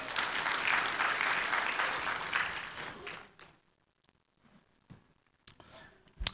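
Applause from a stand-up comedy festival crowd rises for about three seconds, then drops away abruptly, leaving near quiet broken by a few scattered claps and small noises.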